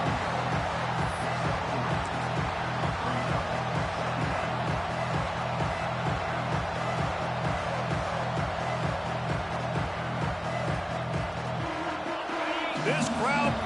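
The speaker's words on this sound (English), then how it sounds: "This crowd bringing the energy and noise early" Stadium crowd at a Miami Hurricanes football game, a steady distant roar of noise and cheering running beneath continuous play-by-play commentary.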